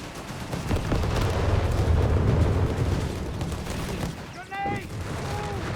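Artillery fire and battlefield booms in the strategy game Company of Heroes 3, a rumbling barrage of blasts and gunfire with a brief whistling tone near the end, heard under a commentator's voice.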